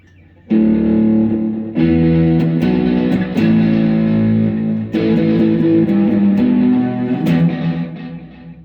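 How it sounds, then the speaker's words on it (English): Loud distorted electric guitar chords ring out through a Behringer Vtone GMX212 amplifier on its hot setting, sustained and sharp-edged, with a few restrikes and a pause near the middle. "The distortion is very sharp on the hot setting."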